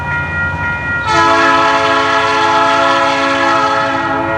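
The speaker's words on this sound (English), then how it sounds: "But definitely an SD60 locomotive" An SD60 diesel locomotive passing in New Westminster sounds a loud, sustained horn chord that starts abruptly and holds steady over the low rumble of the moving train, with no voices.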